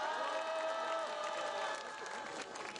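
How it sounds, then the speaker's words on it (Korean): A crowd at a South Korean protest rally against a planned wastewater discharge claps and cheers to welcome a speaker, a sustained wash of applause with whoops that fades slightly at the end. "우리 민변 하주희 사무총장님을 큰 박수로 모시겠습니다"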